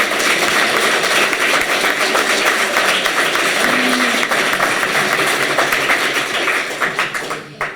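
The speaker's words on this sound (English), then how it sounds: "Round of applause, one more." An audience applauding at a candidates' debate in Calgary Foothills, dense clapping held steady for several seconds before it thins and fades toward the end.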